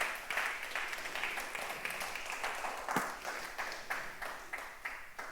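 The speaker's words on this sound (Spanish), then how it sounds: "Dale un aplauso fuerte al Señor." A church congregation claps together at a Sunday service, a fairly faint, distant patter of hands with a loose beat running throughout and one sharper clap standing out near the middle.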